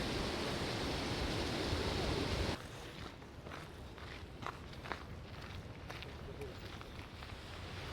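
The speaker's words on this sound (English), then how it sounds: "So I'm just coming up on my first waterfall in Iceland right now." Roar of Öxarárfoss waterfall in Iceland: a loud, steady broadband rush that drops abruptly to a softer, distant wash, with footsteps crunching along the path as someone walks up.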